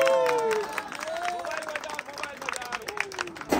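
Audience at a Janmashtami celebration clapping for the boys, a burst of crowd applause overlapped by a voice, with a drawn-out tone also ringing throughout.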